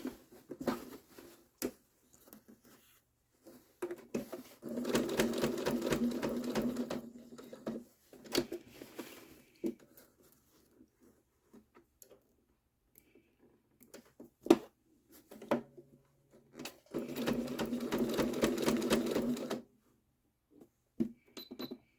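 A sewing machine stitches a self-binding doll quilt about an eighth of an inch from the edge, running in two steady bursts of several seconds each, separated by quieter handling clicks and pauses.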